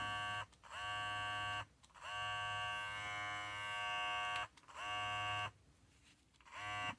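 A Babyliss hair clipper running freshly oiled, giving a steady loud electric buzz in several long stretches, each cut off briefly by short handling gaps.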